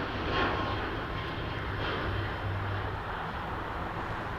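A Lufthansa Boeing 747 in retro livery, on a ferry flight after an engine issue, produces a steady, distant, broad roar from its engines at an airport, with no talk.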